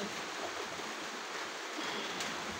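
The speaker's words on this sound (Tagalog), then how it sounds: "lumalakas na po yung ulan" Heavy rain pours steadily, a dense, even hiss that stays constant and fairly faint, with no voices over it.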